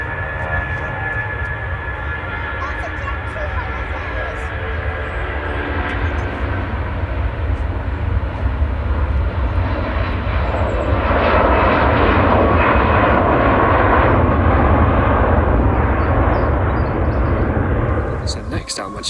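Jet airliner taking off at Manchester Airport, a loud, rising engine roar that builds and swells over about twenty seconds before easing, heard from nearby under a faint voice.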